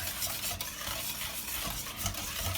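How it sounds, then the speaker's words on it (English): A spoon stirs fresh lemon juice from two lemons into Hellmann's mayonnaise for a chicken shawarma marinade, giving soft, quiet, continuous scraping and swishing in a bowl, with no voices. "To that, I'm adding the juice of 2 fresh lemons. Okay, we'll just give that a stir."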